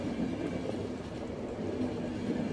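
A train carriage in the video game The Final Station rumbles steadily along the rails, a continuous low, even roar with faint rhythmic clatter and no talking.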